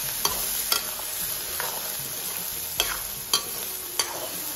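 Snails fry with onion, garlic and chili in a pan over a village fire, giving a steady sizzle. A spatula scrapes and clicks against the pan every second or so while the food is stirred, and no one talks.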